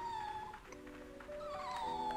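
Newborn puppy in a rickety shed in the Rule of Rose video game, giving thin, high, tonal whimpering cries that rise and waver over a low background hum, repeated a few times across the moment.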